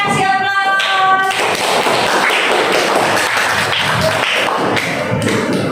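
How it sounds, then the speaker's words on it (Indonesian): A classroom audience applauds together, a dense burst of hand claps that stays loud and continuous for several seconds, with a brief tonal sound at the start. "kita kasih aplaus"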